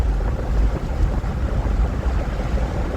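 Wind buffets loudly through a car driving at about 55 mph with all the windows rolled down, a constant low roaring rumble with uneven gusty flutter and no talk.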